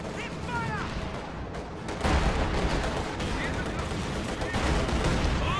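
Gunfire and flamethrower bursts from a WWII strategy video game battle against a Panzerschreck squad, a dense, continuous roar of shots and blasts that grows louder partway through, with no pauses.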